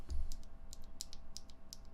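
Linear JWK keyboard switches, 55 gram bottom-out, clack under steady typing on a custom 65% keyboard, a quick run of close, crisp keystrokes with a few louder strikes.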